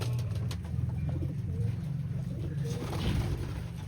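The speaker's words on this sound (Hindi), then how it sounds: "और कुछ कबूतर हमारे उड़ रहे हैं और कुछ कबूतर हमारे ये बैठे हैं।" Pigeons cooing at a goat farm, repeated low, soft coos pulsing in a steady rhythm, close by, with faint background rustle.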